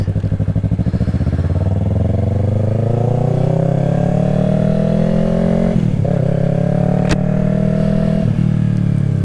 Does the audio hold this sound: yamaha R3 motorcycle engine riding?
yes